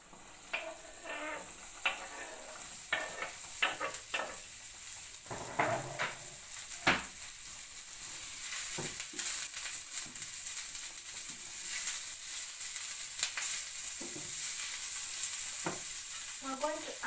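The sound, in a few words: minced onion sautéing in a pan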